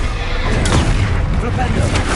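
Booming spell impacts from Bombarda and Expelliarmus in the Hogwarts Legacy video game, a dense, loud low rumble of blasts with a voice talking over it.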